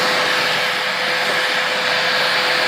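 A Bissell Lift-Off vacuum cleaner running indoors, a loud steady whine with a constant motor tone, close and unbroken, with no talking.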